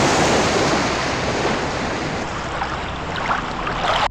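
Sea waves wash in a broad, continuous roar, loud and close with a gusty wind-like hiss and no voices.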